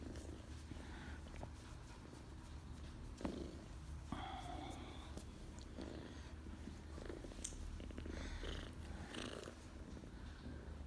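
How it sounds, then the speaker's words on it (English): A cat purring close up, a steady low rumbling drone with occasional small rustles and clicks. "Purring boy."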